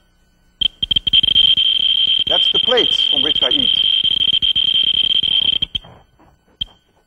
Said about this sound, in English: This is a Geiger tube. It can measure the gamma rays that the uranium emits